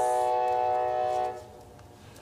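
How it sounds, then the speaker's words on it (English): A loud, sustained train horn blares as a train rumbles past, then the horn cuts off leaving the fading rumble of the rail cars. "There's the train."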